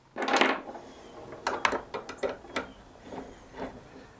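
Screws being threaded by hand into a Caldwell Hydrosled portable shooting rest, a series of irregular small clicks and metallic ticks, close and fairly quiet.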